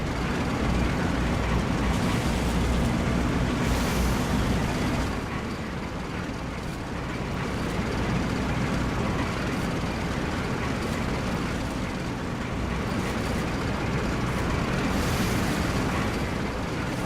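Tank engine in the video game Codename: Panzer, a steady loud rumbling drone that keeps going with slight swells and dips, with no voices.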